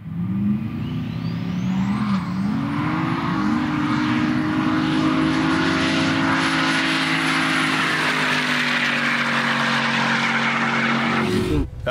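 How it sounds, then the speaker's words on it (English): A turbocharged LS V8 Commodore drag car with a Powerglide transmission, making 760 at the wheels, roars loud and close as it launches and climbs steadily through the revs, ending in a sharp cutoff, with a voice faintly underneath. "it's my V8 Commodore. Turboed LS, just built it to have a bit of fun."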